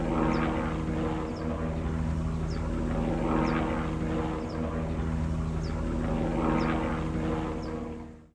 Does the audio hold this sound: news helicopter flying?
yes